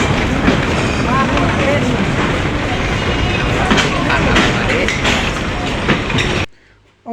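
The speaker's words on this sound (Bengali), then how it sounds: "অবশেষে ট্রেনটি থামার পরে আমরা এখন ট্রেনে উঠতেছি" A train pulling into a station and stopping, loud rumbling and clattering of wheels and carriages close by with people's voices mixed in, ending abruptly in near silence.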